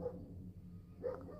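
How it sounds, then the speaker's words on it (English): Small dogs in a little scuffle give two faint, brief barks about a second apart, heard quietly in an indoor room with a low hum. "little dog fight there"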